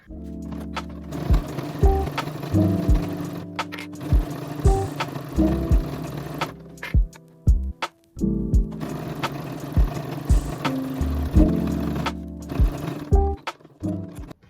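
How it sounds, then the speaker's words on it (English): A sewing machine stitches fabric for a ferret ramp tent, running in repeated bursts of fast mechanical whirring separated by brief pauses, close and loud with no talking. "Then we sew from the bottom to the top, or the top to bottom, however you like."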